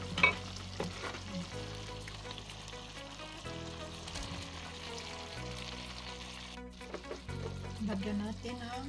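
Eggplant frying with pork in a pan for a Filipino dish, a steady close sizzle with stirring scrapes and shifting bursts throughout, no talking.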